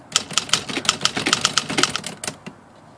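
A Remington Quiet-Riter typewriter clacks through a fast run of keystrokes, about a dozen crisp close strikes at an even pace before stopping, with no voices.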